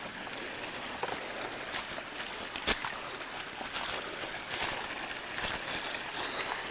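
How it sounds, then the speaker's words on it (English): Water rushes steadily from a waterfall and floodwater draining down a hill after March 2003 flooding around a new house, a dense continuous roar with a few brief louder surges. "Another gorgeous waterfall there."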